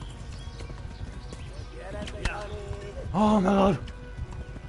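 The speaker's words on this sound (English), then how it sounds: "It's a fucking horse." A horse galloping in the medieval game Kingdom Come Deliverance: steady hoof clip-clop throughout with a loud neighing whinny near the end, under excited talking.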